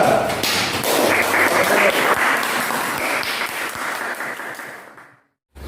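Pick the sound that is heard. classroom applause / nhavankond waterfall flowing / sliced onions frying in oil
classroom applause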